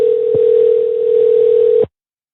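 A steady telephone dial tone holds at one pitch for almost two seconds before a call is placed, loud and close, then cuts off abruptly into silence.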